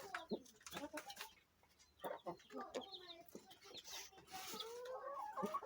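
Backyard chickens and young chicks clucking and peeping in irregular bursts, close and moderately loud, with a little background noise and no clear talk.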